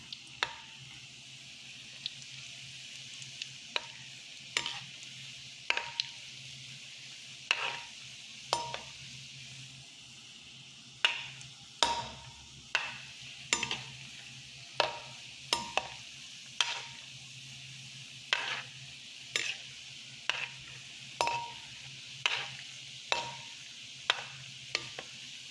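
Shakoy, twisted donuts, cook in a pan of oil with a quiet, faint sizzle, broken by a steady series of sharp clinks and scrapes from a utensil against the pan roughly every second, close and without talk.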